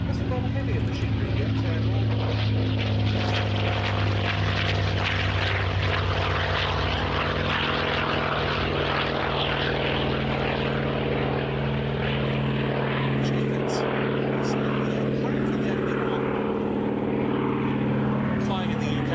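At the Battle of Britain airshow at RAF Duxford, a heavy propeller aircraft engine drones loud and steady throughout, a sustained roar with a voice talking over it.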